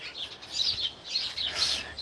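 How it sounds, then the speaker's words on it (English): A flock of chickadees at a backyard bird feeder chirps in overlapping bright, high calls that swell and fade in waves, fairly close, with no voices. "there's a whole bunch of chickadees in there"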